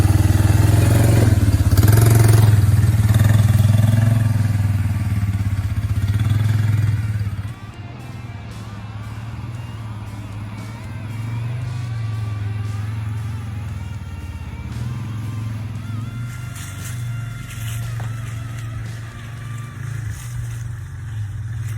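A 2003 Yamaha Bear Tracker 250 ATV engine running loud and close, revving high at first, then dropping to a lower, steady running note with clattering mechanical noise and a few more rises.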